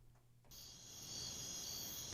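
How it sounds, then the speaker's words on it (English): A cricket sound effect chirps continuously, a bright high steady trill that starts abruptly after a short quiet moment and holds loud to the end. "I think I have crickets."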